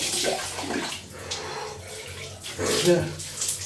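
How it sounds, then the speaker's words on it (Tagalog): Water poured repeatedly over a person bathing at home, with splashing and running water rising and falling in bursts. A voice is faintly audible beneath it. "Pagbuhos-buhos kunti"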